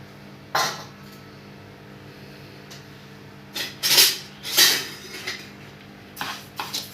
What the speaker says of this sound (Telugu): ఈ పెసరపప్పునండి పచ్చివాసన పోయే వరకు దోరగా ఏపుకోవాలి